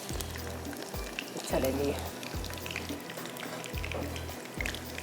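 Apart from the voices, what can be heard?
onions frying in a pan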